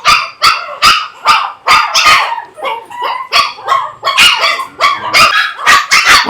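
Several caged dogs bark repeatedly and insistently in a rapid, overlapping series of loud, close barks with occasional yips, continuing throughout without pause.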